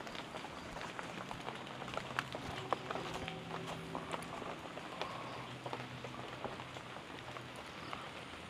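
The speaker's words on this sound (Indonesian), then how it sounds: "ini hujan." Rain falling around an old building complex in Kebumen, a faint steady patter with scattered drips and a few footsteps on wet ground, quiet and even throughout.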